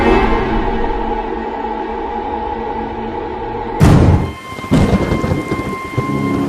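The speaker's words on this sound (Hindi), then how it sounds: "लगातार बरसते हुए पानी की आवाज और बिजली की गड़गड़ाहट" Heavy, steady rain pours throughout, then a loud crack of thunder bursts in partway and rumbles on beneath the downpour, a dark stormy sky over a sudden monsoon-season storm.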